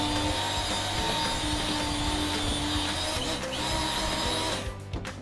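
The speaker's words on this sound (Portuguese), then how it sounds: "Agora a batedeira, mais um pouquinho." Electric stand mixer running at close range, a steady loud motor whine with a constant hum, easing slightly toward the end.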